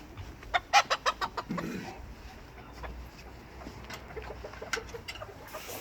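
Chickens cluck in a quick series of close, loud bursts, then continue softly and sporadically in the background.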